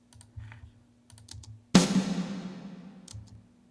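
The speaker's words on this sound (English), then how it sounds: "That sounds like one of our snare drums." A single snare drum sample plays back in a recording session: one sharp crack with a ringing decay, preceded by soft clicks and a low steady hum.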